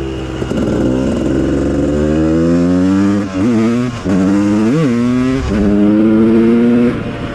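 A Yamaha YZ 250 two-stroke supermoto engine revs loud and close, its buzzing note climbing and dipping through several throttle blips before holding a high, steady drone.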